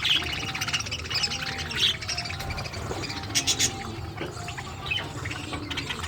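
Pet parrots chirp and tweet in short scattered bursts over a constant indoor background hum, some calls sharper and louder than others, with occasional soft flutters.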